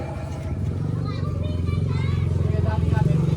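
A motorcycle engine rumbles steadily close by, its low throbbing pulse growing slightly louder. Children and other people talk and chatter over it at an outdoor gathering.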